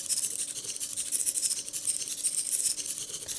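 Rapid, high-pitched mechanical buzzing and clicking from the servos and switches of a typing machine repeat in a fast, steady rhythm close by.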